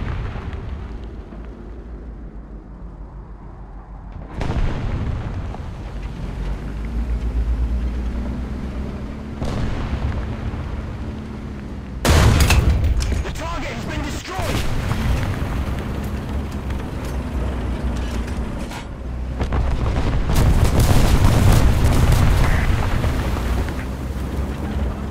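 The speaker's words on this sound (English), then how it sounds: "the enemy is preparing for artillery barrage" Heavy artillery barrage: deep, rumbling explosions arrive in several waves, with strong booms around the middle and a sustained loud roll of blasts near the end, all without voices.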